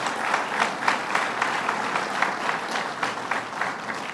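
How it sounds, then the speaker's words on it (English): Audience applause at a press event for a construction project announcement, steady dense clapping from a crowd sustained throughout, moderately loud and even. "Give them a round of applause."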